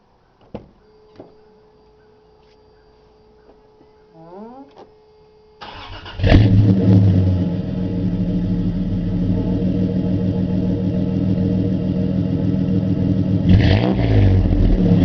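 A 1993 Toyota T100 fitted with a new exhaust routed over the rear axle and out the side: a few faint clicks, a brief starter crank, then the engine catches loudly and settles into a steady idle, swelling near the end.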